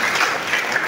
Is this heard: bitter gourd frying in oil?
no